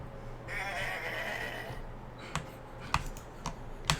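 Goat bleating sound effects play during a fantasy tabletop game session, a wavering bleat lasting about a second and a half near the start, followed by several sharp clicks and taps, with no talk.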